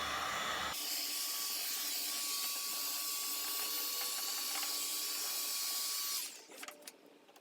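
Heat gun post-heating vinyl wrap on a vehicle grille: a steady, loud airy blower roar with a faint high whine runs for about six seconds, then cuts off, leaving small handling clicks.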